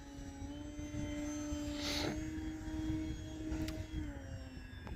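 A Durafly Tundra V2 RC airplane flies with its propeller droning steadily throughout, a sustained mid-pitched whine that holds level with a brief brighter swell near the middle as it climbs under load.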